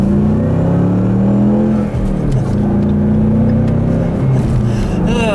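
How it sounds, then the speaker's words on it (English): A Ford Mustang revs up in a steady acceleration, engine drone climbing in pitch with a brief lift near the two-second mark before pulling again, heard loud and close from inside the car. "I'll do a nice little acceleration here"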